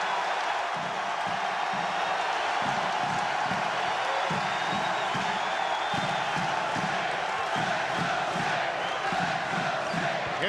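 Large arena crowd roaring at a 1993 college basketball game between Indiana and Penn State, a loud sustained wash of cheering with rhythmic chanting pulses and a basketball bouncing beneath.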